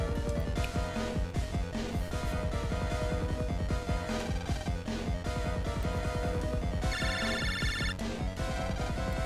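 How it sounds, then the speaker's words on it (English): In Mega Man Battle Network 4 Red Sun, the game's phone ringtone chimes in a bright repeating pattern over busy looping background music, with no talking. "Man, it's the phone again."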